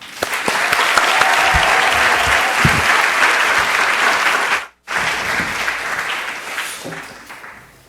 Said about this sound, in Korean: 따뜻한 박수로 모십니다.